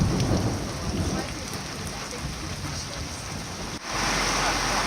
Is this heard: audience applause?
no